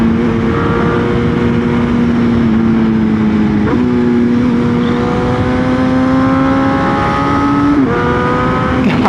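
A BMW M1000R motorcycle engine fitted with a Sprint air filter drones steadily while riding, loud and close, its pitch climbing through each gear and dropping sharply at several shifts, with heavy wind rush underneath and no talking.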